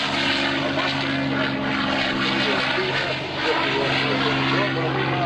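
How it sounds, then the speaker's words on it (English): A P-51 Mustang propeller fighter flies at a naval air station airshow, its loud, steady engine drone with a throbbing prop tone filling the air continuously, with no pauses. "a tribute to the P-51 Mustang World War II greatest fighter"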